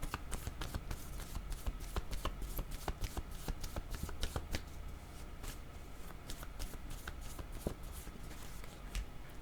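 A deck of cards for a card reading being shuffled close up, a steady run of crisp riffling flutters and sharp taps repeating for several seconds, quiet and alone without talk.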